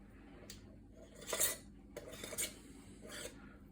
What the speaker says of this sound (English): Twist the top down just till it engages